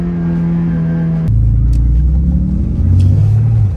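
A supercar's engine drones loudly and close, steady harmonic tones dropping at a gear change and then rising again as it pulls harder; a voice is heard briefly alongside.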